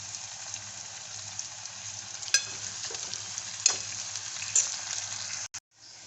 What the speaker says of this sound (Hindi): मैं डालूंगी उसमें ये मेथी की भाजी।